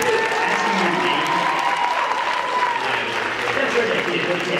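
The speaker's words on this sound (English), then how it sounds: "Another round of applause." Audience at a stage show clapping in a steady round of applause, a dense wash of hands from a crowd indoors with a faint tone running beneath.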